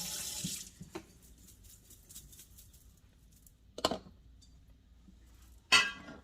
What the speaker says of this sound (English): I'm just gonna rinse this peach vinegar off the funnel